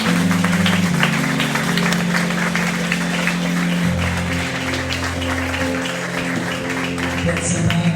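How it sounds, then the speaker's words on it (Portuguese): A church congregation applauds through a worship service, steady broadband clapping held at an even level for the full stretch over sustained organ or keyboard tones with music underneath. "Dê um forte aplauso, Jesus."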